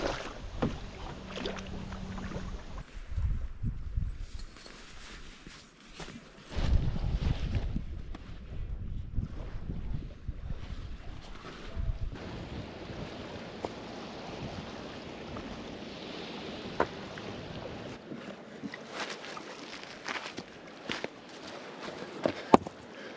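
A kayak is paddled on open water, with soft splashes and water swishing against the hull amid gusty wind noise on the microphone, close and continuous without talk.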